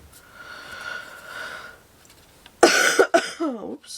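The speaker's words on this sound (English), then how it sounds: "Oops, I just coughed all over my paper." A person coughs sharply a few times up close while working on a small handmade art journal at a craft table, the bursts loud and abrupt after a quiet stretch of faint background hum.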